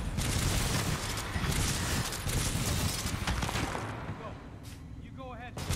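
Rapid, relentless gunfire from an automatic weapon in the video game Titanfall 2, a dense close barrage of shots that runs almost unbroken and eases off near the end, with game voices and effects underneath.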